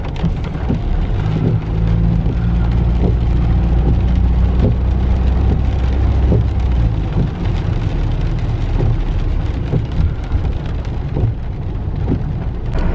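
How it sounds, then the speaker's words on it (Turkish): Heavy rain pours steadily and loudly throughout, a dense continuous wash with scattered drop impacts and a low rumble underneath, with no voices. "bayağı bir yağmur yağıyor"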